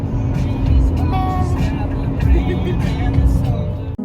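Car driving along Highway 1 toward Malibu, a steady close engine and road hum with a brief swell as it moves, voices faintly mixed in under the drone.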